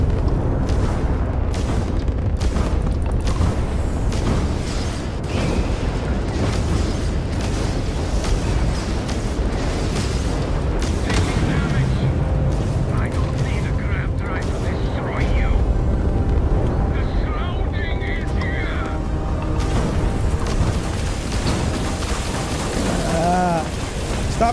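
Spaceship combat in the Starfield game, with weapon fire and explosions forming a dense, continuous rumbling barrage of blasts and crackling impacts that runs loud and steady for the whole stretch.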